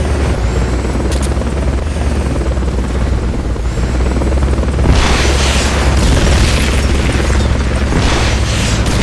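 Fulton recovery helicopter in the video game Metal Gear Solid Peace Walker, a loud continuous low rotor thump and rumble throughout, swelling with a burst of whooshing noise partway through.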